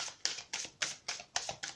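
A deck of oracle cards is cut and shuffled by hand, giving a quick run of about six crisp papery riffling snaps in a steady rhythm, close and fairly quiet.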